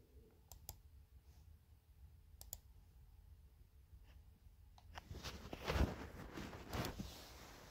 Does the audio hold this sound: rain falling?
no